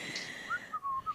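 A person whistles a short, sliding tune, with a few rising and falling notes heard up close and alone.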